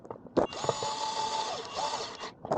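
An electric screwdriver drives a screw into a vintage 1980s Kyosho Big Boss RC car, a close, steady whirring run of about two seconds with clicks at the start and end.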